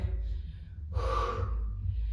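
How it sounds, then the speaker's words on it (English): A person breathes heavily during a military-style bodyweight calisthenics workout. One loud, close, forceful breath stands out over a low steady background hum. "Nice and easy breathing. Inhaling."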